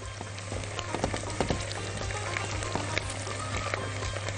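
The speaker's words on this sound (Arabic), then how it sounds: "تعالوا نقلب البصل تاني ونشوف الدنيا اخبارها ايه" Onions sizzle steadily in hot oil in a pan. A spoon turns them, giving scattered scraping clicks over a constant close frying hiss, and nobody speaks.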